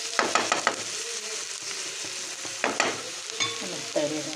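Onion and carrot fry in a pan, a soft steady sizzle under intermittent clicks and scrapes of stirring, with no voices.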